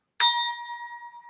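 A gong struck once to open a Rotary Club of Ermita, Manila virtual meeting gives a sharp metallic strike, then a clear ringing tone that hangs and slowly fades, heard alone.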